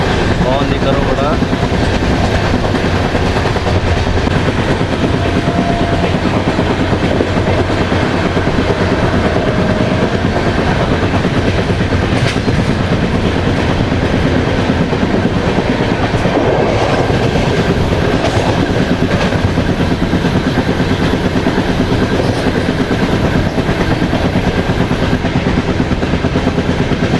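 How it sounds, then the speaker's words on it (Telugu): The Kakinada to Sainagar Shirdi train runs steadily for nearly half a minute, its loud continuous rumble and rhythmic clickety-clack of wheels on rails filling the whole stretch. "ఈ ట్రైన్గా చూసుకుంటే కాకినాడ నుంచి సాయినగర్ సిటీ వెళ్ళే ట్రైన్ ఇది"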